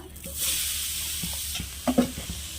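Coconut filling cooking in a pan with cardamom and sugar, a steady soft sizzle and hiss under scraping stirs, with a few louder clanks of the spoon near the end.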